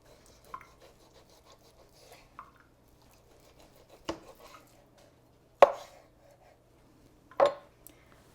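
A knife cuts through a pork loin on a board, giving a few soft slicing rubs and three distinct sharp chops spaced about two seconds apart, close and quiet with no talking.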